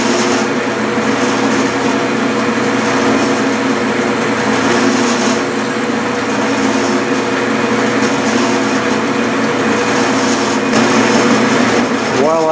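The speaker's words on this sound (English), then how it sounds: "And now I'm reaming 3/8 of an inch. I'm only taking a 64th off." A metal lathe reaming a 3/8 inch hole in a casting held in the chuck, taking a light cut, producing a steady loud whining hum with constant mechanical tone throughout.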